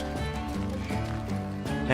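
Horses in the Western video game Call of Juarez, hooves clip-clopping briefly under a dense, steady layer of game music and ambience.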